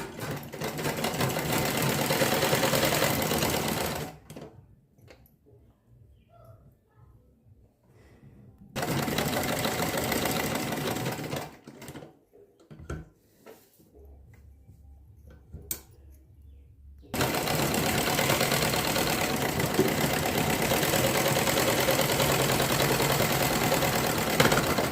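Sewing machine stitching a blouse in loud, fast mechanical runs that stop and start, with quieter pauses between bursts of stitching.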